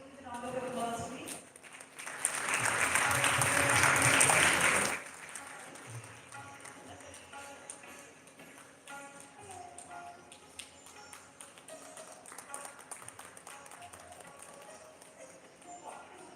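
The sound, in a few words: audience applause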